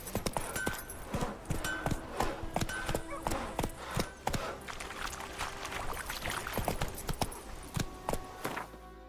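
Roach the horse trots in The Witcher 3, her hooves clip-clopping in a steady rhythm over game ambience and faint background sound.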